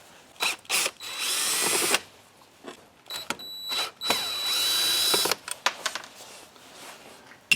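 A power drill backs out screws from a Kirby Heritage vacuum, with several short whirring bursts and longer high-pitched spins, mixed with clicks and handling clatter of metal parts up close.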